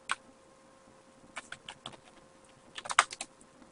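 Computer keyboard typing while entering a fastboot command to lock a Nexus 7 bootloader: a brief tap, then scattered clicks that build into a quicker close burst of keystrokes near the end.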